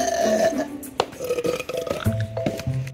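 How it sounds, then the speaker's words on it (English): A very loud, drawn-out human burp rumbles and gurgles in several ragged bursts over a few seconds, close to the listener with no talking. "I've kind of always known that I was able to burp loud"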